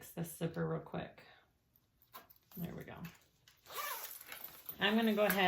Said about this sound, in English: I have to fix this zipper real quick.